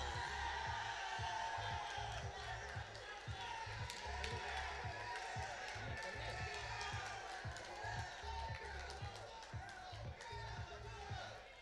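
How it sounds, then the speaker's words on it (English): Men in the audience at a Black college queens pageant clapping and cheering for the queens, a rhythmic crowd of claps and whoops with a voice talking over it. "Ain't nothing like a king clapping for a queen."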